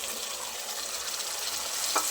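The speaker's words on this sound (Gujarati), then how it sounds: "હવે તરત જ આપણે બેટરને ઉમેરી દેવાનું છે." Jowar flour batter hits a pan over a low flame and sizzles with a steady, fine hiss and soft bubbling, holding an even level throughout with a faint stirring scrape near the end.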